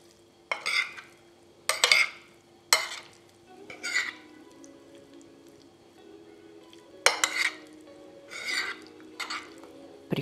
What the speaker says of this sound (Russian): Теперь аккуратно перемешиваем.